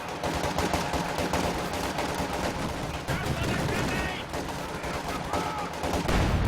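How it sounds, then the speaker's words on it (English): Satchel charges exploding on a base in the Company of Heroes 2 battle game: a dense, loud run of blasts and crackling gunfire that keeps going without a break. "Mass satchel charges on the base."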